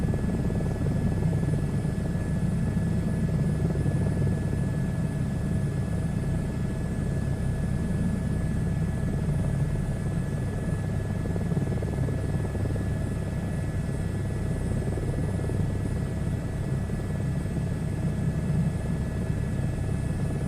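A helicopter in a VR flight simulator game flying over the UK, with a continuous loud rotor and engine drone and a faint steady whine, alone without talk.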